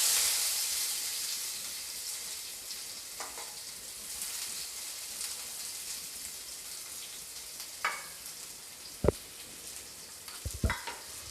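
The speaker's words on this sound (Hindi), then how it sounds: "लहसुन डालने के बाद मैं लहसुन को 1 सेकेंड तक भूनकर रेडी कर लूँगी।" Chopped garlic fries in hot oil with crackled cumin as the base for a dhaba-style masoor dal with drumstick leaves. A steady, close sizzling hiss runs throughout, with a few sharp utensil knocks near the end.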